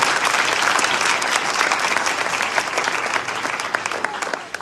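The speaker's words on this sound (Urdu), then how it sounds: "زوردار تالی ہو جائے خدا ان کے جلال کے لیے" A crowd at a church revival meeting in Sialkot claps loudly and continuously, a dense, sustained burst of applause that runs for several seconds before tapering slightly at the end.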